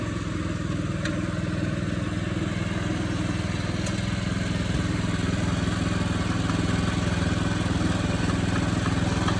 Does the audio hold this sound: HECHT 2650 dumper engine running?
yes